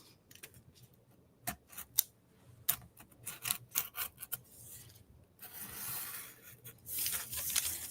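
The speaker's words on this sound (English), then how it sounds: "So I just want to make sure I'm actually cutting it to be exact." Scissors cut through tissue paper in a quiet room, giving a run of short, crisp snips and rasping slides, some isolated and some in quick clusters, followed by a longer, steadier rustle of paper near the end.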